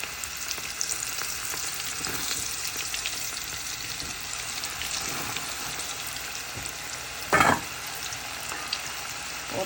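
Lentils sizzle and fry steadily in hot boiling oil, a continuous close crackle with a brief louder burst of spattering partway through.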